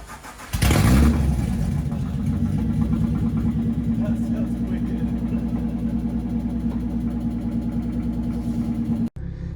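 The engine of a 1994 Acura Legend GS six-speed starts with a sharp burst and settles into a loud, steady idle with a deep, droning exhaust note. The exhaust runs in an unmodified, worn state and is heard up close.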